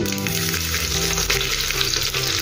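Loud, steady sizzling of finely chopped garlic frying in hot oil for pav bhaji, a dense crackling hiss that continues without pause.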